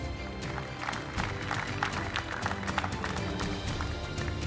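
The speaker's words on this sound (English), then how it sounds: "Let's put our hands together and give her a round of applause." An audience at a business award ceremony claps steadily over a loud music bed, dense continuous applause throughout.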